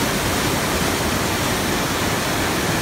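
Strong water flow in a fish tank, a loud, dense, unbroken rushing hiss like a small waterfall, steady and close with no pauses and no voices.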